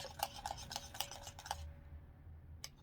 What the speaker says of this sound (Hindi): ये जो हमारा बाउल था इसमें हम डाल देंगे थोड़ा सा कोको पाउडर। ये मैं पहले थोड़ा मिक्स कर रही हूँ।